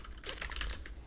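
Someone types notes on a computer keyboard while playing the game Blue Prince. Quick, irregular key clicks rattle in a short burst, close but fairly quiet, with no talking.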